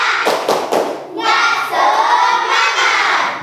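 Primary school pupils in a classroom do a rhythmic spirit clap, a few sharp claps at the start giving way to loud group chanting and shouting from the children.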